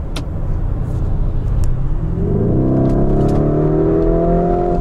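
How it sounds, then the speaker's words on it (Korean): A Lamborghini Urus on a public road: a steady low engine and exhaust rumble climbs into a rising, layered rev that holds loud and close to the end, with no talking. "제가 듣고 싶은 소리, 배기음하고 엔진 회전음은 충분하게 전달이 됩니다"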